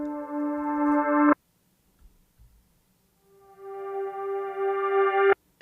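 Reversed Roland MC-303 synth notes swell up from silence and cut off abruptly, two such rising tones separated by a gap with faint low thumps, close and alone.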